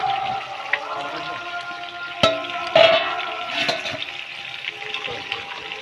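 Pangas fish pieces drop into a boiling curry in a pan. Steady bubbling carries a couple of close splashes and clatters in the middle, then the simmer continues.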